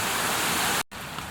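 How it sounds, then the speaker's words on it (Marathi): Steady dense hiss of rain, loud and close, broken by a brief moment of silence before the downpour resumes. "पाऊस सुरू झाला"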